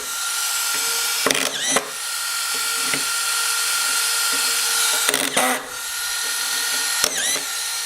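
A cordless Makita XSF03M 18V LXT brushless drywall screwdriver runs with a steady high whine close up, with three brief clicking bursts as screws are driven in.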